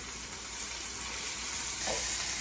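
Chicken pieces for coq au vin brown in a pan with a steady, close sizzle and hiss of frying fat, continuous and unbroken.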